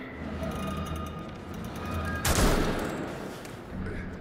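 A sharp burst of ice gun fire in a video game, one loud crackling blast rising over a steady game soundscape with faint background noise.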